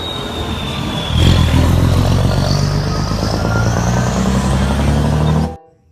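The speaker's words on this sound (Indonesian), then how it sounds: "Truk tangki panjang, teman-teman." A toy long tanker truck gives off a loud, steady engine-like roar with a rising whine, close and continuous, before stopping abruptly.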